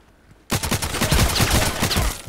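Semi-automatic rifle fired repeatedly in the shooter game Contract Wars: after a brief quiet moment, a rapid, loud string of close shots cracks out in quick succession until the end.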